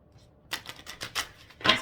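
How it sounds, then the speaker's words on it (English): Large tarot cards being shuffled, a quiet pause followed by several brisk papery riffles and slaps, close by with no talking. "These cards are big, so they're a little harder to shuffle."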